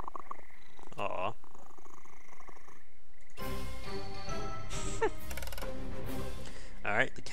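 A cat in the video game On the Rain-Slick Precipice of Darkness purrs in a close, steady rumble, joined by louder layered game sounds partway through.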